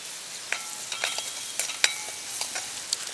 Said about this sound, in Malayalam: ഇതും ചേർത്തിട്ട് നമുക്ക് നല്ലോണം ഒന്ന് സോട്ട് ചെയ്ത് കൊടുക്കാം